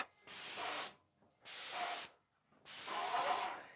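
An airless paint sprayer primed and running at about 1,500 PSI gives three loud, steady hissing bursts of spray, each under a second long, separated by short pauses.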